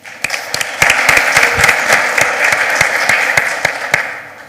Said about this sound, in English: So let's give Kira a big round of applause,